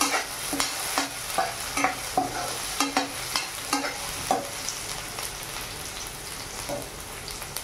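Potatoes fry in hot oil in a pan over a high gas flame, a steady close sizzle broken by regular scraping stirs of a spatula about every half second, alone with no talk.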